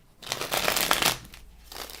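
Crisp riffling crackle of a deck of cards being shuffled, close by, in one sustained burst followed by a quieter rustle.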